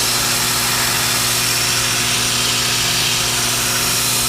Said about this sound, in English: we're going to sand a little more pressure on that side.